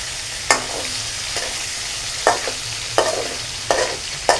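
Vegetables and a fish head fry in a wok over low heat, a steady soft sizzle broken by a series of sharp stirring scrapes at irregular intervals, close and alone with no voices.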